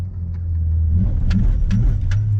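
A Toyota MR2 accelerating hard, its engine rumbling low and loud from inside the car with a few sharp rising surges as it pulls.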